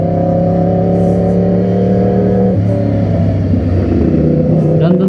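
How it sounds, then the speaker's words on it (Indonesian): An older Yamaha R1 motorcycle engine runs steadily with a loud, dense, buzzing drone whose pitch drops partway through and then climbs gently again, close and constant. "Hari ini kita naik Yamaha R1"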